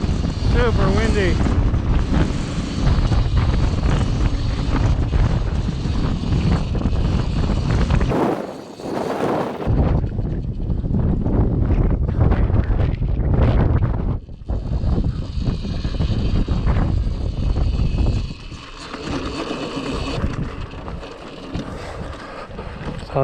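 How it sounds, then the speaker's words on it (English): Strong wind on a snowy hill near a red cone, roaring and buffeting the microphone loudly for most of the stretch with a brief lull partway, while a person talks over it. "And it is windy up here."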